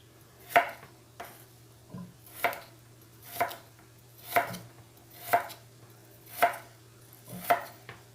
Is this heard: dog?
no